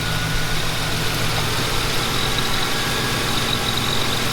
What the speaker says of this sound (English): the AC compressor is kicking in and out. The clutch is kicking in.